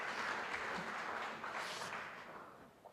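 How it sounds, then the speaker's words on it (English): Soft, fairly distant applause from a conference audience at a plenary session on labour market policy, a brief wash of clapping that fades gradually over a few seconds. "All right, applause for that, because this is a long talk."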